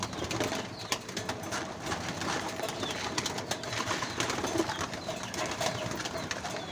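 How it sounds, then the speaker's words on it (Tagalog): Pet pigeons at a feeding, with a dense continuous bustle of soft pecking, shuffling and occasional wing flaps and coos, close by and steady throughout, no talking. "So papakainin natin yung mga kalapati na to."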